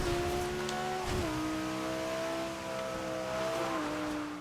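A maxed-out Lamborghini Gallardo Superleggera with all-wheel drive in Forza Horizon 2 holds a steady, loud engine drone that dips at a gear change, then keeps climbing and shifts again near the end.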